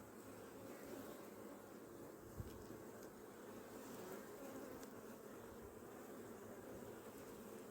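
Honeybees buzzing steadily around an opened beehive during an inspection, a dense continuous drone close by and quiet, with no talking.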